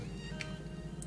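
Faint, brief meow from a cat in the Minecraft video game, a single short call over a low steady background.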